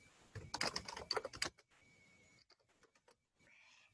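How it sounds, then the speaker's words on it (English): Fingers type quickly on a computer keyboard at close range in a dense run of key clicks, followed by sparser taps and quiet pauses, with no speech. "They could type something in"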